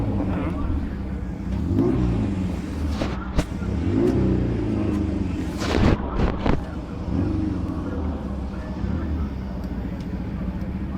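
A Ducati 350 racing motorcycle engine revs at a vintage motorcycle festival, its throttle blipped in rising and falling sweeps with a few sharp bursts, loud and close, while people talk over it.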